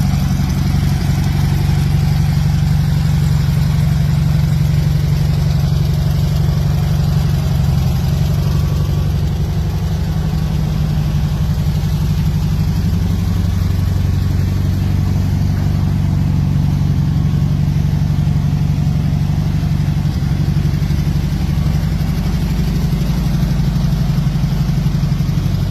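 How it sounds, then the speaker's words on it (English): The engine of a 1975 Rupp TM Trike runs steadily at a constant idle for the full length, a loud, close low rumble with no breaks. "Now for something rare, 1975 TM Trike by Rupp."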